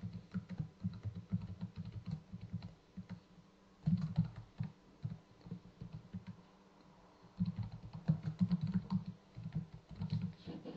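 A password is typed on a computer keyboard in quick bursts of soft key clicks, close and quiet, with short pauses between runs.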